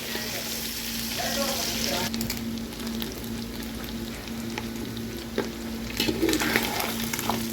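Mutton fries in a pan with a steady close sizzle and crackle that runs throughout, joined by a few light stirring scrapes and faint talk in the background.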